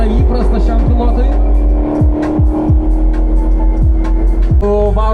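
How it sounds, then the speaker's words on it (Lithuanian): Dodge Challenger and Corvette race cars idling at the start line before a drag race, with loud sustained engine rumble and repeated sharp revving blips close by, under a voice talking. "Rinas Grikšas, Dodge Challenger. Stoja prieš kartelį, Korvetas 30."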